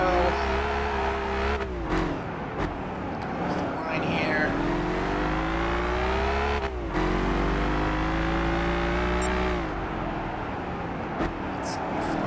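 A McLaren F1 94 in Gran Turismo 5 revving and accelerating through gears, its engine note climbing repeatedly with sharp shift breaks, loud and close, while someone talks over it at times.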